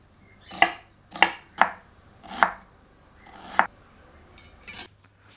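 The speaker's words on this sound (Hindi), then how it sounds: "एक बड़े आकार की प्याज को बारीक काट लेते हैं।" Knife chopping a large onion on a board, five sharp distinct chops at irregular intervals with a couple of softer cuts at the end, close and clear with no talk.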